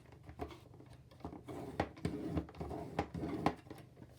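A scoring tool drawn along a sheet of paper while folding a tiny gift bag, giving soft scraping, tapping strokes close by at an irregular rhythm.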